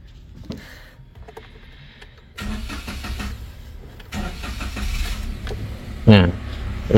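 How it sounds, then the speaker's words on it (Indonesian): A 2019 Daihatsu Sigra 1.0 manual car engine cranks and catches, then settles into a steady idle, close by, following a few clicks and rattles. "Kita nyalakan dulu mobilnya."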